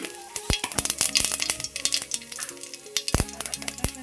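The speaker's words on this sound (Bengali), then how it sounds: "তেল গরম হয়ে গেছে, এখন দিব একটু আমি জিরা, তারপরে দিব একটু কালো জিরে" Cumin and nigella seeds fry in hot white oil, a steady close sizzle broken by repeated sharp clinks and scrapes of a spoon stirring against the pan.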